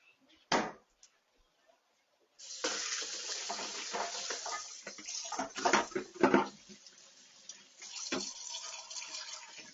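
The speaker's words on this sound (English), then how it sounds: "now, I'm going to wash my hands" A kitchen tap runs while hands are washed, starting after a brief clunk, with splashing and gurgling water that rises and falls close by.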